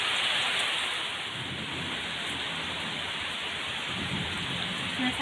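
Heavy rain falls steadily over rice fields around a small field hut, making a dense, even hiss that fills the whole span; no distinct thunderclap stands out.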